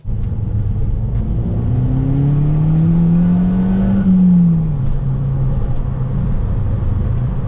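Volkswagen Golf GTI accelerating on the road, a loud steady engine drone inside the car with a clear rising rev tone that climbs, peaks and drops as the gear changes.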